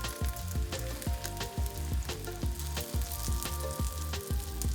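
Eggplant slices sizzle and crackle steadily in hot oil in a frying pan, with a repeating thumping pulse and tonal background music running underneath; close and continuous.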